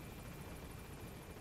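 Helicopter flying off in the game Metal Gear Solid V: The Phantom Pain, a steady broadband rotor and engine roar that stays constant and fairly faint throughout, with no voices.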